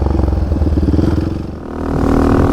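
A Big 5 Raptor engine screams at high revs on a high-speed run in fourth gear near 85 mph, loud and close, with a throbbing pulse that dips briefly and then climbs back to a sustained roar.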